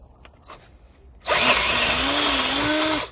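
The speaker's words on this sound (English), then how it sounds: "let's get the right size and ream it out, drill it out" A power drill spins up and runs steadily at high speed, reaming out a hole for a heel-toe shifter on a Royal Enfield Meteor 350 motorcycle; loud, close and continuous after a brief quiet start.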